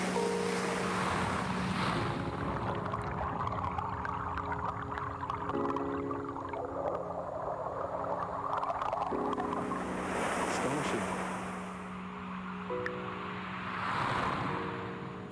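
Ocean surf rolls onto a shore in broad, steady washes of noise, with wind buffeting the microphone and faint low tonal hums underneath, slowly swelling and easing over about fifteen seconds.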